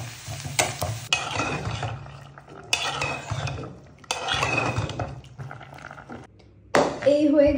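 Whole spices and panch phoron tempered in hot oil as a bagar for a cooked vegetable dish, loud crackling sizzle in bursts with pan clatter and stirring, a voice speaking over parts of it.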